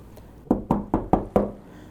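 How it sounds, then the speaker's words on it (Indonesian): Five firm knocks on a bedroom door at night, evenly spaced and close, with nothing else around them. "tiba-tiba dia dengar ada yang ngetok pintu kamarnya"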